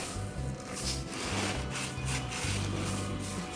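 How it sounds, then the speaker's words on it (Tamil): Pounded rice is scooped by hand from a mortar into a vessel, giving repeated dry rubbing and scraping strokes, close and fairly loud, with no talking. "இப்போ இது அப்படியே ஒரு பாத்திரத்தில் அள்ளிடலாம்"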